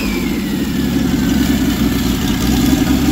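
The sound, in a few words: new engine running at idle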